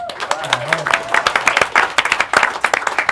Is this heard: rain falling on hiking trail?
no